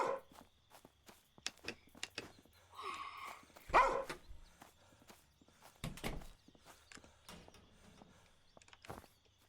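A dog in the video game Thief Simulator 2 moves about among quiet footsteps and scattered knocks, giving soft occasional barks and snuffles at low volume.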